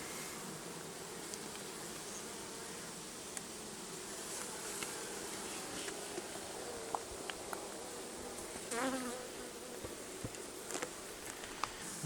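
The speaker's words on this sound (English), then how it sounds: "So it looks like there's a lot of bees," Honeybees buzz around an open hive colony with a young queen cell, a dense, faint, continuous hum of many insects with occasional closer individual bees passing near, no talking.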